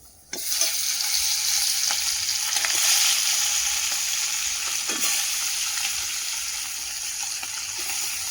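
Large prawns and parshe fish frying in hot oil in a kadai over a wood fire, a dense steady sizzle that bursts in suddenly and holds loud and close throughout.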